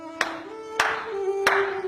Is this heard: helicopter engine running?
no